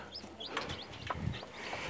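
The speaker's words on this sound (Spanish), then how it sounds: "Aquí están los pollitos." Newly hatched baby chicks peep in short, high chirps scattered across a couple of seconds, fairly close and moderately quiet, with no talking over them.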